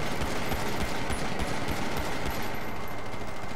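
Sustained rapid gunfire in a GTA RP video game shootout, a dense, continuous automatic barrage that holds steady at close range for the whole stretch with no talking.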